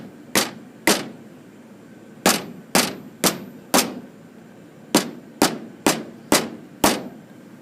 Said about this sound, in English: take a soft face mallet and tap on the top of each seat until they firmly are seated in its bore